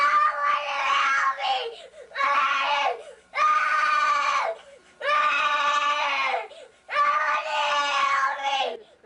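A young foster girl who suffered severe abuse screams in five long, shrill bursts separated by short gaps, her voice strained and close, rising and falling into crying wails.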